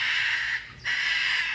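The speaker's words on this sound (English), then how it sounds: "Don't know if y'all can hear the birds." Harsh bird calls ring out loudly and continuously outdoors during bobcat training, broken by one brief pause before the noisy chorus resumes.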